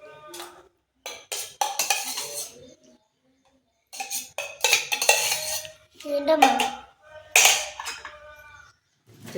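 Utensils scraping and clinking in a pot while food is stirred, in irregular bursts of metallic scraping separated by short pauses, close up, with a person talking in between.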